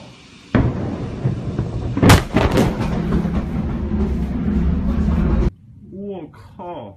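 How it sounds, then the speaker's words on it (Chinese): A massive explosion in Tianjin, China booms loud and close, with sharp blast transients over a sustained roar that cuts off abruptly, followed by excited voices talking. "哪地方炸了？"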